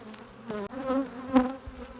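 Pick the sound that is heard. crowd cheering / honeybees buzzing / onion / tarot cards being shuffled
honeybees buzzing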